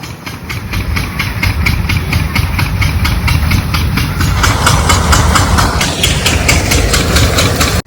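A tractor engine idles on a farm during threshing, a loud, close, steady mechanical drone that runs unbroken throughout with no voices.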